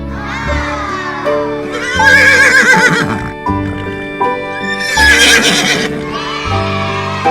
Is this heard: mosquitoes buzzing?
no